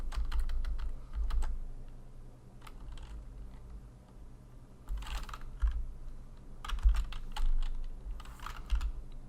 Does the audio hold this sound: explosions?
no